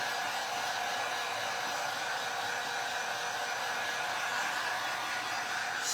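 A hair dryer runs steadily and loudly throughout, a continuous even blowing whir drying colored hair after dyeing, with no talk over it.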